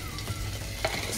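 Butter and flour sizzle together in a pan as a roux for Polish beetroot soup, giving a brief, steady frying hiss with a faint stir, close by.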